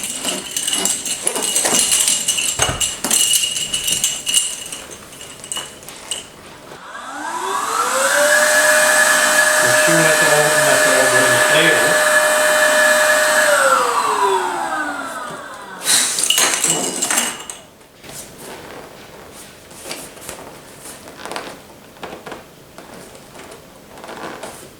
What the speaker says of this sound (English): Let's inflate it and we'll see. Let's get my rechargeable pump here.